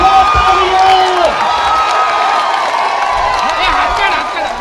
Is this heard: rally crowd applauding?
yes